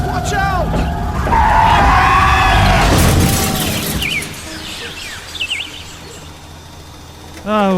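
Tires screech in a long, loud skid as a car slides in a staged audio-drama crash, with voices shouting over the chaos and a jolt near the end.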